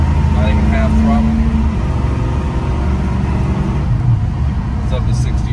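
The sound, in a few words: 1978 Chevrolet C10 383 V8 accelerating in second gear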